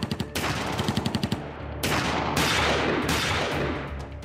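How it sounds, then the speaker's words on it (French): Rapid bursts of gunfire crack out in quick succession during a gang shootout in Roubaix, then a sustained, dense barrage of shots rages loudly with no voices. "C'est un déchaînement de coups de feu."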